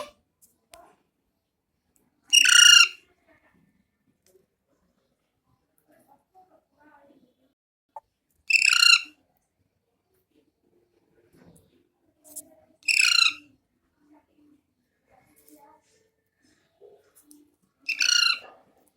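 Alexandrine parakeet (chandana parrot) giving four loud, harsh squawks spaced several seconds apart, each a short burst standing alone against near silence.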